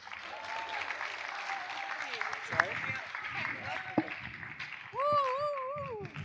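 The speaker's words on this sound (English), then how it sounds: "another applause so they can transition" Audience applause at the opening ceremony of ISWI 2019, a steady wash of clapping from a crowd in a hall, with a few louder claps and other noises cutting through near the end.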